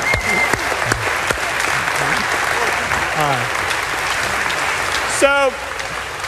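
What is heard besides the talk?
class applause for volunteers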